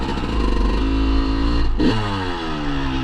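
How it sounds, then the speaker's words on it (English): A motorcycle engine runs steadily up close, a loud continuous drone with harmonic tones that dip briefly and then resume at a slightly lower pitch, no talking. "I gotta take the bike out."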